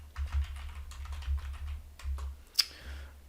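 Keys tapped on a computer keyboard while entering text in Photoshop, a quick steady patter of light clicks up close, with one sharper keystroke near the end.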